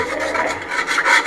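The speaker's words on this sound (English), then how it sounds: "I'm just scraping up all that protein that cooked to the bottom of the pan" A utensil scrapes cooked protein off the bottom of a pan while making General Tso's chicken sauce, a short, close, continuous rasping scrape with no talking.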